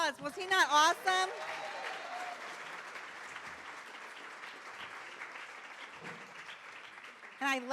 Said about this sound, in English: let's give Ben another round of applause.